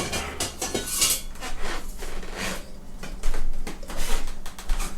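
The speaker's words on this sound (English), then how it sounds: "Now I'm going to scoop the rest out." A spoon or ladle scraping and clinking inside a hot pot while scooping out homemade elderberry syrup, with a steady stream of close metallic scrapes, taps and knocks and no talk.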